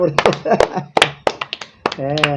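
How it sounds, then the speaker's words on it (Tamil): A few sharp hand claps ring out in between lively speech, close and loud, separated by short pauses, with a person talking throughout. "கைத்தட்டு கைத்தட்டி கைத்தட்டி வச்சா"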